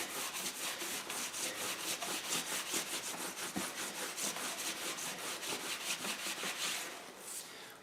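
Bar Keepers Friend cleaner is rubbed by hand into Bridgeport milling machine parts, making a steady, close, rhythmic scrubbing and rubbing that continues evenly for several seconds before easing off, with no talk.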